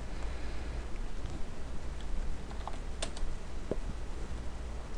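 Close keystrokes on a computer keyboard, sparse and uneven, with a few sharper clicks near the middle, over a steady hiss and with no voices.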